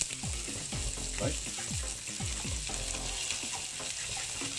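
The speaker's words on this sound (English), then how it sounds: "here's some butter to fry the onions and chilies" Onions and chilies fry in butter with a constant soft sizzle behind a voice speaking briefly, plus faint stirring.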